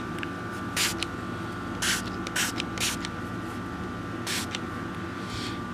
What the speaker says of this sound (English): spray the inside of the barrel, spray the gun barrel, then spray the upper, the slide, and then do the lower